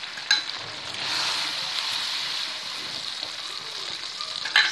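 A ginger, garlic and tomato paste with red chillies sizzles loudly in a hot pan while being stirred, with a steady frying hiss and a few close scrape clicks.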